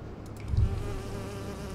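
Wasps buzz in the hidden-object game Nightmares from the Deep 3, a steady insect drone that holds for the whole moment alongside a low ambient hum and one brief thump.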